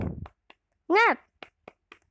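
A short rhythmic clap chant led by a teacher for a class of sixth graders: a handful of sparse, quick clap-like taps scattered around one loud sung or called-out phrase in the middle.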